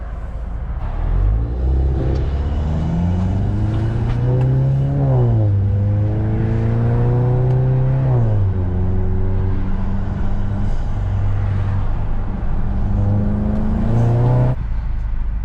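A Volkswagen GTI engine revs up through several gears, pitch rising and dropping with each shift, loud and close with steady road rumble, after a dogbone mount insert install.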